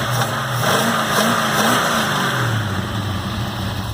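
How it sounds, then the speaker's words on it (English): Holden VB Commodore with electronic ignition idling smoothly up close, a steady low engine hum with a slight wavering rise and fall in pitch, loud and continuous with no talking. "it's a very, very healthy car. No dramas idling,"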